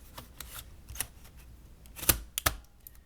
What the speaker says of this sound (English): to put the hard drive back in, all I had to do was slide it in